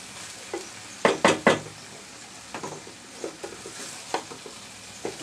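A chicken and vegetable filling is stirred in a frying pan, the spoon giving a few sharp scrapes and knocks against the metal over a soft sizzle, with quieter stirring strokes continuing throughout.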